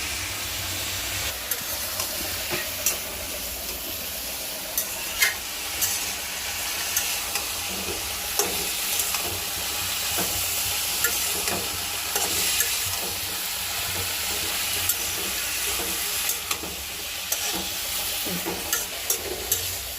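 Food sizzles steadily in a pan over a gas flame, likely fish frying alongside a vegetable dish, with a continuous close hiss and frequent clicks of stirring.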